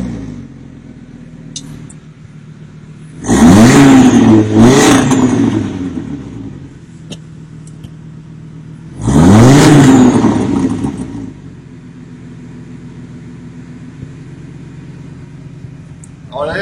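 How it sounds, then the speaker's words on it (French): An Audi RS3 with its particulate filter still fitted revs twice in the open, each blip rising sharply then falling back to a low, steady idle. "Alors la RS3, donc celle-là c'est la version avec FAP, elle n'est pas défapée, donc elle fait beaucoup moins de bruit que la génération d'avant"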